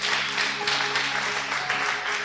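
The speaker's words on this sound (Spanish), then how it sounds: "Dele un aplauso al Señor." A church congregation claps for the Lord in a dense, sustained wash of applause that fills the room briefly with no talk over it.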